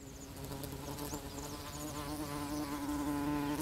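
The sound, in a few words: pollinating flies buzzing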